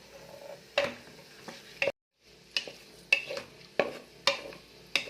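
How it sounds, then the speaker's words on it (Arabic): Onions being stirred as they fry in butter and oil, likely with meat, while being cooked for Algerian kebab tagine: a soft sizzle runs under repeated sharp scrapes and clinks of a utensil against the pan, with one brief gap. "وهاني قاعده نحرك فيها حتى تتبال البصله وتصفر"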